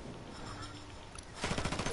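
Rapid gunfire bursts in a Ghost Recon Wildlands Ghost War PvP match, faint background ambience that gives way to a closer, louder string of quick shots near the end.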